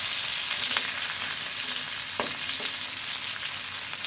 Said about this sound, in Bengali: ভালো করে ভেজে নেব পেঁয়াজটা